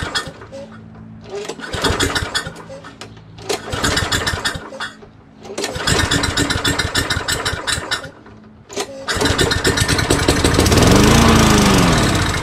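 Craftsman 21-inch Hi-Tunnel rear self-propelled lawn mower with a Tecumseh 6.5 HP engine, cranked in several loud, rattling bursts with pauses before it catches and runs steadily, close by.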